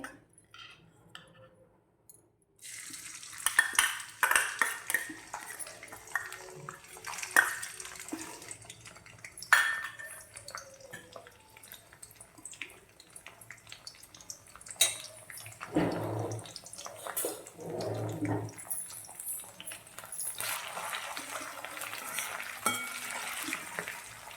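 Crushed ginger and green chillies hit hot oil in a pan while cooking a Gujarati green moong dish, raising a steady broadband frying hiss with intermittent stirring clatter after a quiet start.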